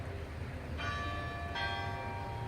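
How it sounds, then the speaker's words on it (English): Church bells at Lourdes ring out near the grotto, two bright metallic strikes about a second apart, each leaving a long humming resonance over a low background rumble. "And the bells."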